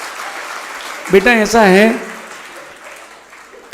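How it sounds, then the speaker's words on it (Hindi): An audience at a religious question-and-answer gathering claps, a diffuse spread of applause under someone speaking briefly in Hindi. "ताली बजाओ इसके प्रश्नों के लिए भाई"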